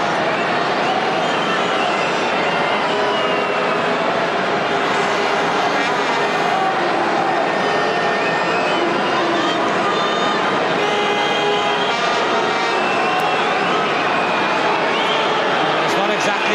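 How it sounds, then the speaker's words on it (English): A Welsh rugby crowd at a Wales versus South Africa match makes a loud, continuous roar of chanting and shouting that fills the stadium throughout, with a commentator talking over it. "It's not exactly quiet from the Welsh crowd."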